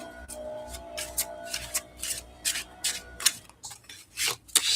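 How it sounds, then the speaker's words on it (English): Cards being riffled and shuffled in repeated quick bursts, each a crisp flutter of snapping edges, with short pauses between, close up and fairly quiet. "Gonna shuffle a bit."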